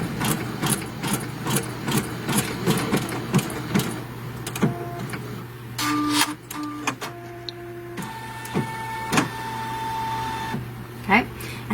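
An embroidery machine runs a straight basting stitch down the middle of a hooped in-the-hoop project, its rapid needle clatter steady and close for several seconds while a person talks over it, then pausing among brief tones and clicks.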